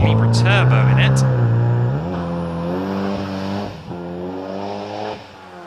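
Race car fitted with a Calibra Turbo engine, driving loud and close, its engine note holding steady then climbing as it pulls away, with a commentator talking over it throughout.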